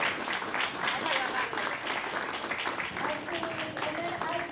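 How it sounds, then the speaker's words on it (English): Audience applause at a youth conference lecture, steady clapping from a crowd filling the room, with a voice speaking over it. "please give them a round of applause"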